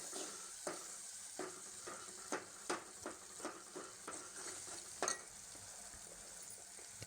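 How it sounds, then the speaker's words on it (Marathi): A fenugreek and moong mixture with turmeric is stir-fried in a pan. A soft sizzle runs underneath about a dozen distinct scraping and clinking strokes of a spoon, close and quiet, in a loose repeating rhythm. "आता थोडीशी हळद मिक्स करूया आणि पुन्हा एकदा हे मिश्रण परतून घेऊया"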